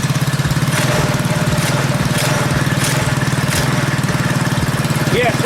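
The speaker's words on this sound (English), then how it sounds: "it's actually idling a little higher than it usually would be" A Predator 212cc engine on a modified KT196 go kart with advanced ignition timing idles a little high, a steady close putter running throughout while someone talks over it.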